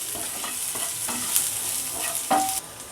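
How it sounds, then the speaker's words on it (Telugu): Sliced onions frying in a pan for chilli garlic chicken, heard as a continuous close sizzle with a couple of stirring scrapes and clinks, no talking. "యాడ్ చేసి కొంచెం ఫ్రై చేసుకోవాలి."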